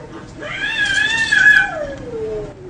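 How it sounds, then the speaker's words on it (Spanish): A single loud, drawn-out cat meow rises and then slides downward, wailing for about two seconds close to the listener. "Un gato"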